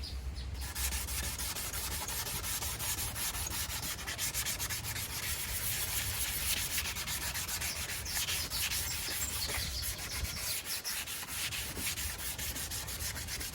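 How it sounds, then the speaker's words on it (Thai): A car headlight lens is wet-sanded with water, giving a steady, close, even scrubbing hiss that continues without a break, with no voices. "อันนี้เขาเรียกว่าขัดน้ำครับ โดย โดยที่วิธีการขั้นตอนในการขัดนะครับ เราก็ใช้น้ำไปด้วยนะฮะ"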